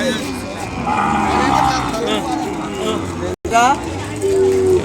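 Cattle and calves at the Kodad cattle market moo loudly nearby, a long drawn-out low call and another later, over a steady hubbub of people talking and market noise.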